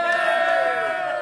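Crowd cheering and shouting at a bowls match, World Pairs Masters short mat tournament, a loud, sustained roar of voices rising together in a brief burst, close and full.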